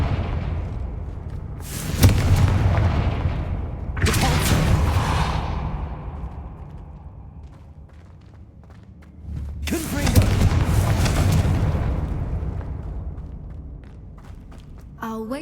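Repeated blasting-spell explosions in the video game Hogwarts Legacy, three loud booming bursts roughly two to six seconds apart, each with a sharp crack and a rumbling tail, separated by quieter thuds and footsteps.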